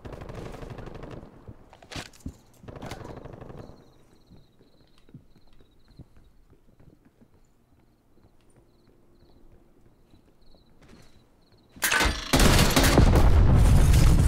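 Gunfire in the shooter game Call of Duty Black Ops Cold War during a multiplayer Hardpoint match, with a few sharp bursts early on, a quieter stretch of faint activity, then a loud sustained barrage of shots near the end.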